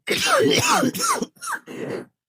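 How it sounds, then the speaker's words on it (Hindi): A man in a car filled with cigarette smoke gives a short run of harsh, close coughs and throaty groans that break into a few separate bursts. "तो खांसते खांसते ही बोला"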